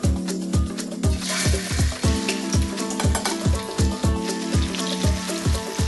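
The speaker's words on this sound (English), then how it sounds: "Fry the tofu meat side down until it's a light golden colour" Stuffed tofu fries in hot oil in a wok, meat side down, with a steady close sizzle and crackle punctuated by a regular series of low thumping knocks throughout.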